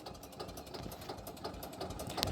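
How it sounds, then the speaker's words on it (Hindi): A tractor engine revs in gear while wood is being loaded, a rapid, even chugging pulse at moderate distance, fairly faint and steady without speech. "इन्होंने गेयर लगा दिया है और ट्रैक्टर की रेस दे जा रहे हैं"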